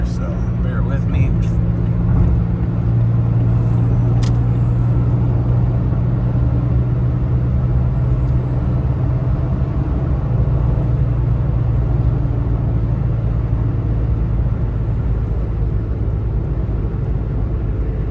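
Toyota Tacoma Gen 3 automatic with 5.29 gears cruising in sixth, a steady loud low engine drone and road rumble heard from inside the cab.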